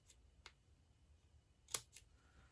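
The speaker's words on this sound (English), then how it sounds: "I'm just cutting a little piece off." Small scissors trim a little piece of paper for a handmade Stampin' Up! card, making a few sharp, close snips spaced apart in a quiet room with no speech.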